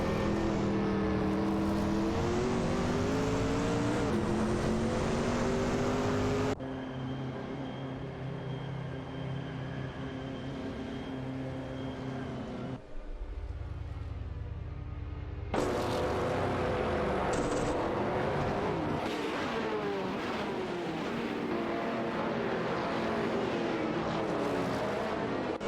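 Race car engines in a video game race with a Ferrari F40 and a Lotus Esprit, loud continuous engine drone and revving that shifts pitch through gear changes, one abrupt quieter stretch, no talking.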